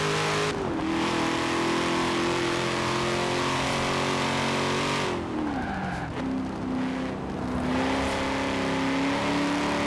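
A car engine in Forza Horizon 4, loud and close, holds a steady drone, drops its pitch sharply mid-run as if shifting or lifting, then climbs again, with tire squeal and skidding layered over the roar.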